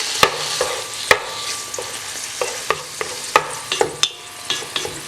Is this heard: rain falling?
no